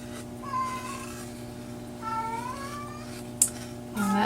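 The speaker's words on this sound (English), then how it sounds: "our chatty cat. She's always making some kind of noise" A domestic cat makes two or three soft, drawn-out meows at moderate distance during a quiet crafting session, with a brief sharp click near the end.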